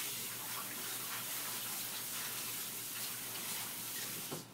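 Spinach leaves are washed in water, giving a continuous close splashing and running-water rush, fairly quiet and steady throughout.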